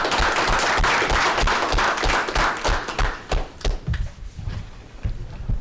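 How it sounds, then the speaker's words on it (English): Audience applause at an education and culture committee meeting, dense clapping from a room full of people that thins into scattered, louder individual claps toward the end. "let's give them an applause"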